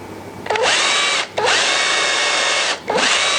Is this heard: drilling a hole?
yes